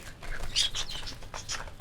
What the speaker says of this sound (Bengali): এ হচ্ছে বাচ্চা কবুতরটা